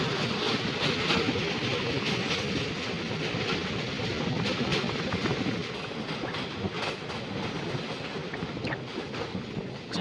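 Train 18107 running at dawn over the Maliguda rail bridge on the remote Rayagada–Koraput line in Odisha; a steady, loud rumble of wheels and carriages with faint clickety-clack fills the whole stretch, without talk.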